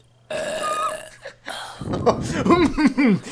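Man letting out a long, deep, bubbly burp after eating corn nuts, close and loud, following a few brief vocal sounds, with the burp breaking into several rippling pulses.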